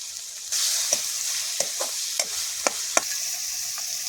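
Tomatoes and chillies drop into a frying pan for Gujarati baingan bharta and are stirred, giving a steady sizzle with a series of scraping spoon strokes through the mix, close and fairly quiet with no voices.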